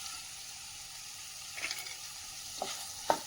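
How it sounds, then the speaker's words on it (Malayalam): Mushroom pepper fry with spices sizzles steadily in a pan while a spoon stirs it, giving a constant frying hiss broken by a few soft scraping knocks near the end. "ഇനി ഇതുകൂടി ഒന്ന് ഇളക്കി യോജിപ്പിച്ച് കൊടുക്കണം"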